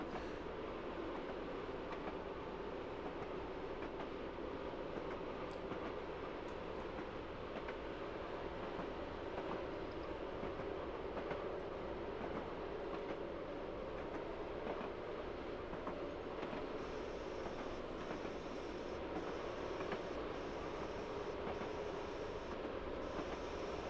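A Class 111 diesel multiple unit running on the Falmouth branch in a train simulator game, with a steady rolling rumble and engine drone, faint rail clicks and occasional squeal, continuous and even throughout.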